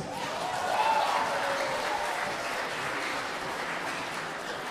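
Audience applause at a PESPARANI NTT 2022 choir competition, a steady wash of clapping from a large crowd that holds at an even level throughout.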